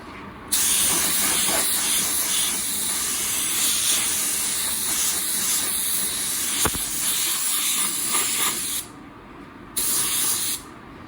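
A spray gun laying down a second coat of clear coat: a loud, steady, close hiss runs for about eight seconds, cuts out briefly, then resumes in a short final burst.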